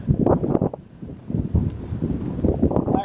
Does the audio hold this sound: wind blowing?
yes